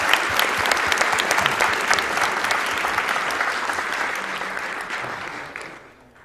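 An audience claps steadily and loudly at a gaming tournament after a Kaizo level run, dense applause that fades out near the end.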